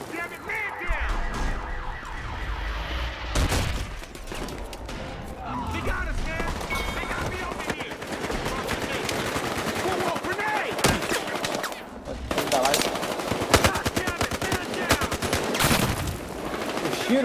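Gunfire in the video game Battlefield Hardline, with bursts of automatic weapon fire and crashing impacts against a busy backdrop of other game sounds and a blaring alarm-like tone, continuing for the whole stretch.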